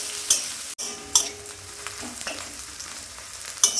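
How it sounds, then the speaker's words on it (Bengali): Chopped onion and ginger fry with black cumin in a pan, a low continuous sizzle punctuated by several quick spatula scrapes and one sharp clack. "পেঁয়াজটা আদা ভাজা হয়ে এসেছে"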